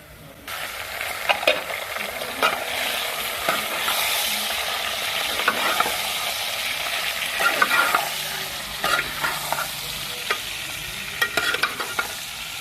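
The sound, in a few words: chicken frying with browned onions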